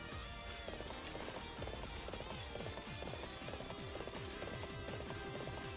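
A horse gallops in Warriors Orochi 3, its hooves beating a quick, steady rhythm. The hoofbeats are faint and sit inside a dense wash of battle noise.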